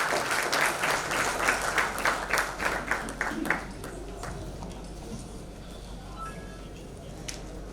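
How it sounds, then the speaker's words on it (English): A crowd at the inaugural session of an MSME sammelan in Uttar Pradesh claps for a minister, a few seconds of rhythmic group applause that fades out, leaving quiet room tone. "Can we have a huge round of applause?"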